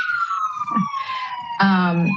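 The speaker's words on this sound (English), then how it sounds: "sorry, there's an ambulance going by." Ambulance siren passing by outside during a city design commission meeting, a loud steady wailing tone that swells as it goes by, with a voice speaking over it.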